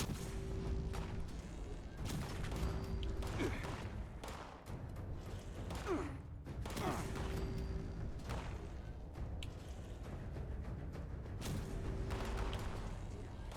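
Repeated gunshots from a near laser-like gun in Fallout 76 go off in irregular bursts, sharp and booming, over a busy game soundscape with a voice speaking at times.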